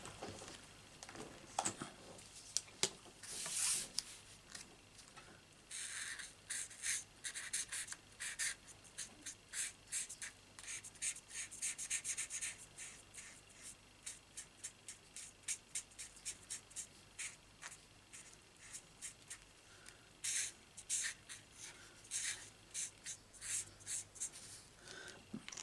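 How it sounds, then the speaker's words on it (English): A pencil or marker colouring in grey on paper by hand: close, rapid rhythmic scratching strokes in quick bursts, faint and with no talk. "With the hand, I'm going to colour it in grey."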